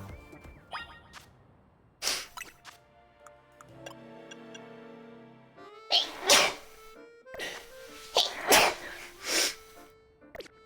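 A single sharp, close sneeze bursts out over a game's background music and ticking effects, followed by several more loud, abrupt bursts later on.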